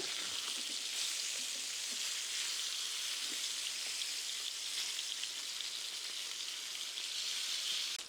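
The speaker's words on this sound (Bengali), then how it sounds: "দুই থেকে তিন মিনিট পর আমি এটা ফ্রাই করার পরে আমার মাছের একটা পাশ হয়ে গিয়েছে" Fish pieces frying in hot oil for a restaurant-style fish curry, giving a steady, even sizzle and crackle that carries at constant loudness throughout, with no talking.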